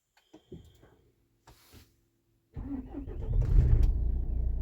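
A Renault 1.6 dCi diesel engine, just refitted after particulate filter work, gives a few faint clicks and a short whir, then catches and settles into a louder, steady close-up idle.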